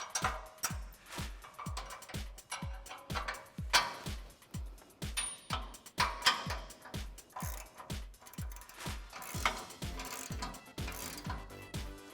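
An 18mm socket on a ratchet cranks down the bumper bolts of a 2013-2018 RAM 1500, producing a steady stream of sharp, close pawl clicks in repeated strokes with short breaks, with no voices.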